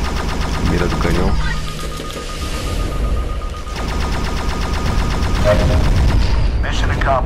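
Loud, rapid bursts of spaceship cannon fire in the PlayStation VR game End Space crackle and boom continuously over a humming game soundtrack, with short pauses between volleys.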